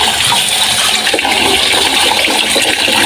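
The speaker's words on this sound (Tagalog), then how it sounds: "Tapat na natin dito sa tubig, sa gripo." Steady rush of water from a kitchen tap pouring over an egg held beneath it, a continuous loud broadband splash with no breaks.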